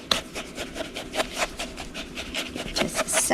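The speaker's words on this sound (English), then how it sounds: "Go ahead and whisk that in." Salt and sugars are whisked into brownie batter in a bowl, making quick, rhythmic scraping strokes that repeat evenly at a fairly soft, close level with no speech.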